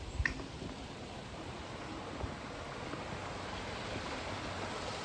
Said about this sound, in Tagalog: Maingay ngayon tubig.